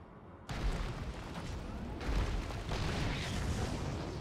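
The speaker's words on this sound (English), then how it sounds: "So I drop the siege tank, I fire." A StarCraft 2 siege tank opens fire, a sudden loud booming blast followed by sustained rumbling explosions and dense noise, with no voices.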